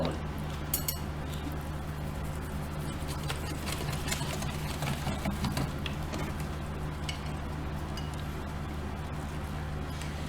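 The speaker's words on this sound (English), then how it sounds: "I will now start mixing this." Red velvet cake batter for an eggless sponge is mixed in a single bowl, with a steady mechanical whir and scattered clinks of utensil against bowl running continuously at moderate level.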